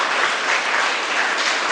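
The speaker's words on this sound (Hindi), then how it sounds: "अपने ही स्वागत में हम सभी ताली बजा सकते हैं।" An audience at a Brahma Kumaris stress-relief camp claps together, giving a dense, even burst of applause that holds steady throughout.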